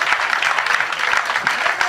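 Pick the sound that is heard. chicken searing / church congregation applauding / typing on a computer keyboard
church congregation applauding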